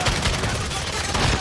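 Dense, rapid gunfire in the video game Warzone, a loud continuous burst of shots filling the whole moment with no pause.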